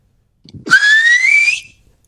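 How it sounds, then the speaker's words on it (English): A single clear whistle, close and loud, held as one steady tone that rises slightly in pitch for about a second before stopping abruptly. "Who's whistling?"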